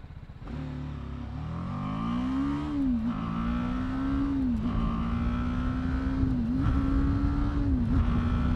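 A lightweight adventure motorcycle pulls away from a traffic light under full throttle. The close, loud engine note climbs steadily in pitch and dips briefly at several gear changes, with no talking.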